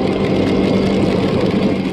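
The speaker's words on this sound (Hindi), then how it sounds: "और आज तो मैं सुपर बाइक पे हूँ।" A super bike motorcycle engine running on a rainy hill road toward Saputara, a loud steady droning hum with a constant low pitch throughout, close by and alone without talk.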